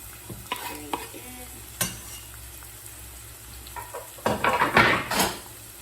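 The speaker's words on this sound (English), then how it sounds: "We'll just stir it around a bit and leave it to turn golden brown." Garlic, onion and celery frying in olive oil in a pan, stirred with scattered scrapes and clinks of utensil on the pan over a low sizzle, busier and louder near the end.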